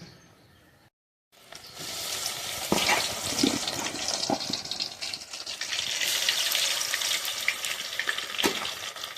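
Cauliflower pieces fry in hot oil with a steady, close sizzle and bubbling crackle that runs nearly continuously after a brief silent gap near the start, with occasional sharper pops.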